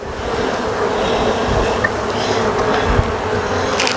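Buzzing of a weak honey bee colony in a hive box as it is opened and inspected, a steady near drone of scattered bees with a few brief knocks over it.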